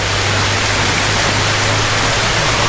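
River water rushing steadily at a campsite where the Sedim and Riau rivers meet, a loud continuous broadband roar with no talking.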